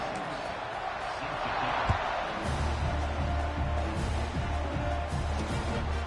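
Football stadium crowd murmuring and rumbling before a kickoff on a TV broadcast, a steady broad roar with a low hum entering partway through, no clear voices on top.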